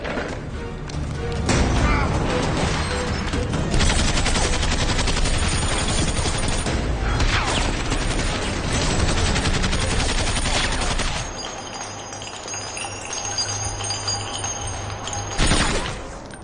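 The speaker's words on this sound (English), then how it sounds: "Sergeant, who's shooting?" Heavy gunfire in an action film, a dense sustained barrage of shots and blasts lasting over ten seconds before dropping to a lower rumble with a final loud burst near the end.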